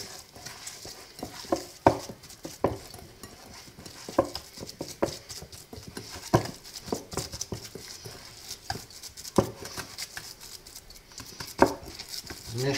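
Hamburger meat mixture being kneaded by hand into one mass, giving wet squelching and slapping sounds in irregular bursts, close and fairly quiet, with no talking.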